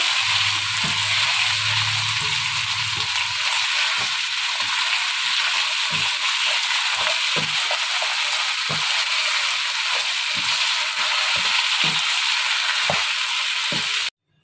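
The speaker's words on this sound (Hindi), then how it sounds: "और प्याज के साथ गोश्त को अच्छी तरह फ्राई कर लेते हैं।" Mutton and onions fry in a pan with a steady, dense sizzle that runs unbroken for about fourteen seconds, broken by small pops and a low stirring rumble near the start, then cutting off abruptly.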